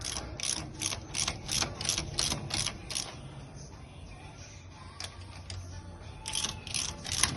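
Ratchet wrench clicking in quick repeated bursts while tightening valve rocker adjusters on a lumpy-cammed Morris Minor fitted with a V8 engine, close and fairly loud, with pauses between runs of clicks.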